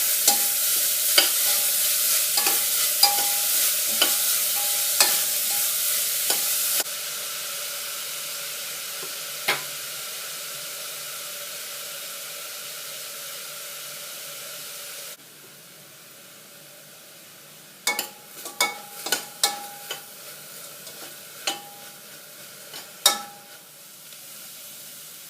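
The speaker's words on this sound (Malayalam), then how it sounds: "ഉള്ളി നന്നായി വഴറ്റണം. ഒരു ലൈറ്റ് ബ്രൗൺ ഷെയ്ഡ് ആവുന്നത് വരെ ഇങ്ങനെ വഴറ്റി കൊടുത്തിരിക്കണം." Onions sautéing in a pan while being stirred, a soft continuous sizzle broken by clusters of sharp spoon scrapes and clinks, close and quiet with no voices.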